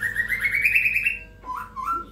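A white-rumped shama (murai batu) in hot, active singing form gives clear, loud whistled song phrases, one long rising note followed by a brief pause and a shorter two-part whistle, with no other sounds around it.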